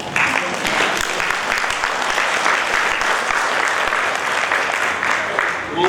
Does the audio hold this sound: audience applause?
yes